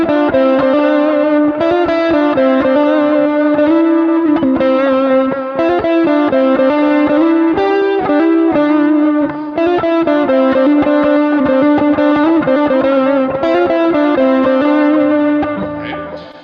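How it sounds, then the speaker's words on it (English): An electric guitar plays a sustained lead line through two stacked distortions with reverb and delay, producing a thick, saturated tone with held notes and steady, loud picking. "if I wanted to throw on the two distortions, then you can get kind of like your lead tone"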